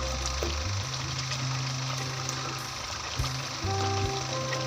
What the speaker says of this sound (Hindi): अब हम चमची के ज़रिए जितने भी टमाटर हैं सबको मैदा कर लेंगे और उसको अच्छे तरीके से मिक्स कर लेंगे